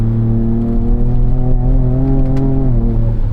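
2024 Ford Ranger Raptor engine revving as it climbs through the gears, a loud, close in-cabin drone whose pitch rises, drops at a shift, then rises again.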